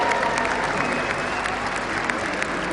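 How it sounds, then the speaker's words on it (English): Audience at a League of Legends esports finals event applauding, a dense, steady wash of clapping from a large crowd filling the hall throughout. "let's give one round of applause to the man who made this game possible"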